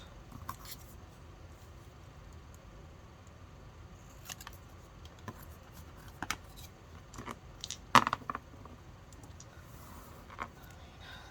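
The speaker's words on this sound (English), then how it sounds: "So I'm gonna cut that out." Scissors snip through a paper sticker in quiet, sparse cuts, a handful of small sharp snips and rustles spread over the stretch, close and soft.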